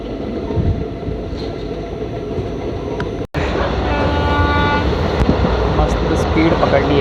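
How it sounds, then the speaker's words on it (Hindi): Amravati Express rolling at speed, heard from inside an ICF first-class coach: a loud, steady roar of wheels and rushing air with rhythmic rail clatter, briefly cut by a dropout midway, then continuing with faint horn-like tones. "स्पीड पकड़ ली है हमारी ट्रेन ने, बढ़िया चल रही है फ़िलहाल के लिए।"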